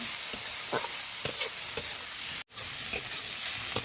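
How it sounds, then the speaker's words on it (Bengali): Pumpkin flowers and shrimp seasoned with salt and turmeric hiss in a hot pan in a village kitchen, a continuous close sizzle broken by regular spatula scrapes and one abrupt brief dropout partway through. "দিয়ে দিচ্ছি লবণ, হলুদ গুঁড়ো, আর 2-3 মিনিট আমি নাড়াচাড়া করে তারপর নামিয়ে নেব"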